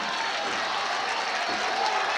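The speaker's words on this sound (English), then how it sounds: "The crowd really coming alive here on this big 4th down play" A crowd at a high school football game between Pontotoc and Itawamba cheers and roars steadily as a broad, continuous wash of noise during a big fourth-down play, loud and sustained.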